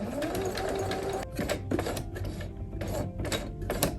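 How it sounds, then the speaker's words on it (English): A sewing machine stitches a zipper along a fold line, running steadily and close with a fast mechanical whir, briefly pausing and restarting in short bursts, no voices. "I'm trying to sew on this fold line right here."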